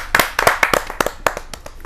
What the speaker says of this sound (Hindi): ताली बरसाएं।